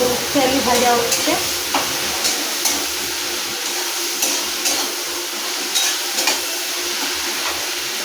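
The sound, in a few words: potatoes frying in a pan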